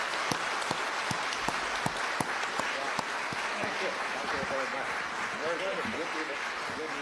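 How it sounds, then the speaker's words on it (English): Sustained applause from a seated audience at an academic debate event in China, steady dense clapping with a few sharper individual claps near the start, moderately distant and continuous throughout. "Please join me to give a very big applause to our two prominent scholars."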